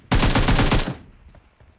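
A rapid burst of gunfire, about seven loud close shots in quick succession lasting under a second, then a fading echo and quiet.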